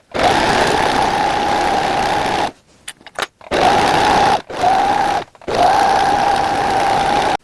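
A sewing machine runs a very small stitch length along the edge of fabric wadding for a mini tote bag, steady motor hum in bursts with short pauses and a quick stop-start back stitch, close and loud.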